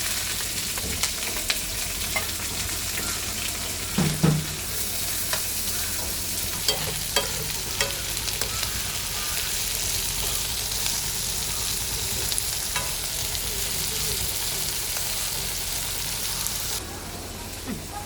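Onion, ginger, garlic and curry leaves frying in a pan, giving a continuous loud hiss and crackle with occasional utensil knocks and stirring scrapes, close up, lasting throughout.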